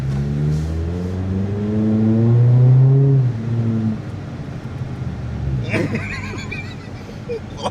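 A Mazda RX-7 FD engine fitted with a full exhaust revs in rising and falling sweeps that stop after about three seconds. A sharper burst follows, and people talk over and around the noise.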